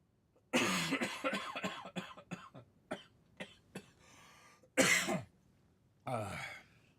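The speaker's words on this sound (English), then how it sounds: "I'm just going to have a cough" A person coughs and clears their throat repeatedly at close range, a harsh opening burst followed by short hacks and two more rough coughs after pauses.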